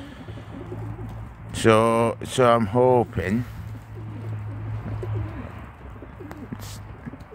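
A pigeon in the loft gives a few loud, close, warbling coos in quick succession, then quieter murmuring, while someone speaks briefly nearby.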